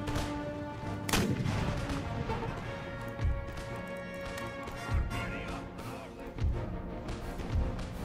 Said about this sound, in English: Point blank